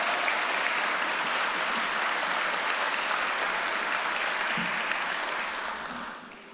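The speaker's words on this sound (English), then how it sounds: "Can we give one more big round of applause for our training officers?" A crowd applauds training officers at a fire recruit academy graduation ceremony, a dense, steady round of clapping that holds level and then tapers off in the final second.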